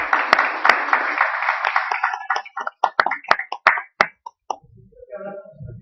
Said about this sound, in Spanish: Damos ese fuerte aplauso